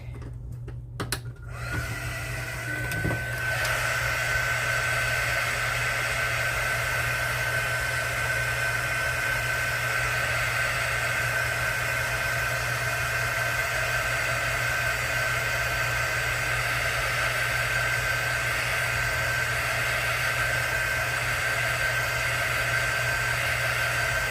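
A dryer blows steadily onto freshly poured eco ceramic resin, a loud continuous close whirring hum that starts after a few brief handling knocks and runs unbroken to the end.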